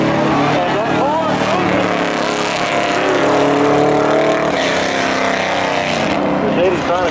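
Ford and Mercedes cars drag racing side by side at a Memorial Day thrill show spectator drags event, engines roaring loud and steady throughout under a commentator's voice.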